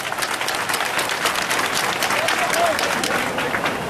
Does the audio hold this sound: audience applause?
yes